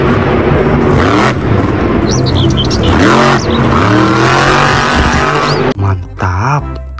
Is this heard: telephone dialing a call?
no